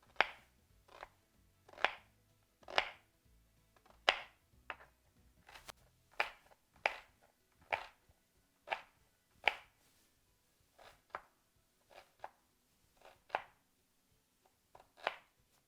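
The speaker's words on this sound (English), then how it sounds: "I'm just going to chop this, just a rough chop." A knife rough-chops butternut squash on a cutting board: about twenty sharp, distinct thwacks in an uneven but steady rhythm, close and clear with quiet pauses between strikes.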